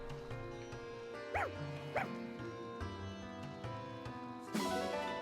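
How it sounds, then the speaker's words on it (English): A small white dog in the video game Fire Emblem Engage gives a couple of short yips over a gentle game music background, fairly quiet and close, followed by a brighter chime near the end. "Hey, you're a white illusion dog."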